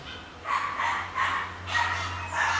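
A dog barks in short, repeated yips from some distance, about four barks over a low steady hum.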